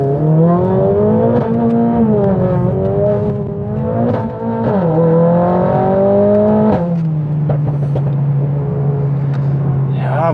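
A Mercedes-AMG A 45 S in drift mode on a wet road holds a loud, close, droning engine note that climbs and dips with throttle changes, then settles to a steadier hum.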